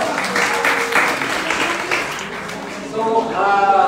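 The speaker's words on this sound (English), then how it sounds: "Big round of applause." Audience of university students applauding during a financial literacy and banking session, an even, moderately loud patter of many hands that fades toward the end as a voice starts speaking over it.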